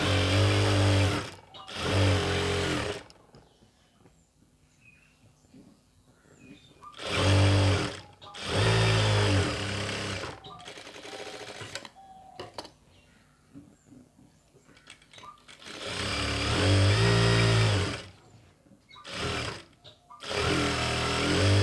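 A sewing machine stitches XXL chudi pant pieces together in loud, close bursts of a few seconds each, separated by quiet pauses, with no talking.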